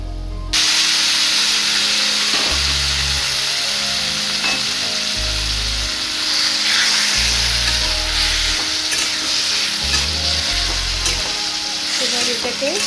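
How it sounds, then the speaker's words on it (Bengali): Taro leaves (kochu shaak) sizzle steadily in a hot pan as a utensil stirs them in repeated scraping strokes, a continuous close frying hiss with no talk. "এবার এটাকে একটু নেড়ে এর মধ্যে কচুর শাকগুলো দিয়ে দেব।"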